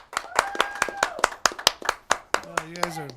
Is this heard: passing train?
no